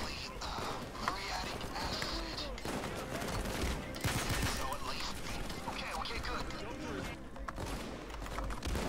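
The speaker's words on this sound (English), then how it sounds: "This gun is awesome just because it's the M308, but it reloads really fast when it's out of ammo" Rapid rifle fire from an M308 in the shooting game Payday 2, steady bursts of shots mixed with game effects and background sounds, while a person talks over the action.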